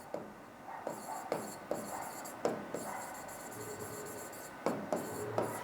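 Chalk or marker writing coordinates on a classroom board, with quick scratchy strokes and sharp taps at the start of each mark, close and fairly quiet, with no speech.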